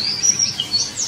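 Songbird chirping and singing in a forest, bright high tweets and short trills repeating in quick bursts, fairly close and clear over a faint background hush.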